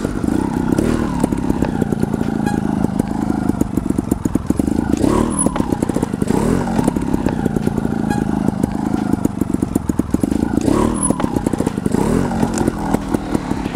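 A trial motorcycle held in first gear through a cornering exercise produces a continuous buzzing engine drone with rhythmic rises and dips of throttle, loud and close throughout.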